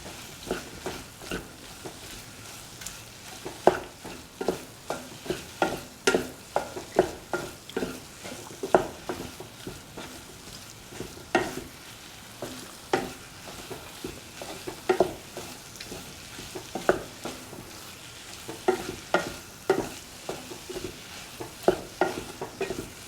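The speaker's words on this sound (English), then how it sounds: "Keep on mixing all the ingredients." A soya chunk and egg stir fry being stirred in a pan, with a soft sizzle under a steady run of scraping and tapping strokes from the spatula, close and without speech.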